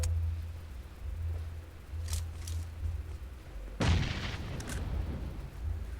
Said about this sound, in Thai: เชี่ยเพื่อนปาระเบิดไปแล้วว่ะ